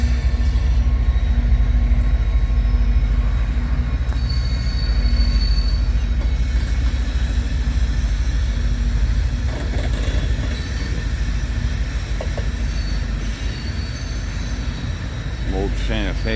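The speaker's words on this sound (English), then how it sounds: "Pulling a loaded coal drag east," A loaded coal drag freight train, ex-Santa Fe now BNSF, pulls east out of a rail yard, rumbling steadily and close with wheel squeals and clanks the whole way, with brief voices under the noise.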